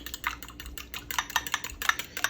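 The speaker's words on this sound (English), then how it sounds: "We have 2 whole eggs. I'm gonna whisk that up." Two whole eggs are whisked briskly in a bowl for carbonara, the whisk tapping and scraping in a quick uneven rhythm of light clicks, close and alone with no talk.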